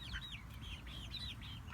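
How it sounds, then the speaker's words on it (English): Backyard garden chicken pen holding blue Wyandottes, Polish crested hens and a silkie, with faint, repeated clucking and chirpy calls over a steady low background hum, no talking. "chicken pen over there, we have 2 blue Wyandottes and 2 Polish crested crowns and a silky over there."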